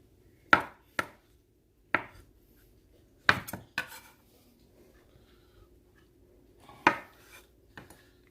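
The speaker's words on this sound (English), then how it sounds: "Rough chop them up." A knife rough-chopping salad ingredients on a board, a handful of sharp separate knocks spaced unevenly with quiet gaps, close and fairly loud.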